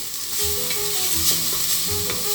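Minced meat fries without oil in a pan, a steady sizzle with periodic scraping stirs of a spatula, close and continuous, no talk.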